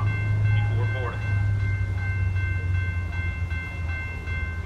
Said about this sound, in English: The next Metro train approaching your station will be a Metro Express train and will not stop.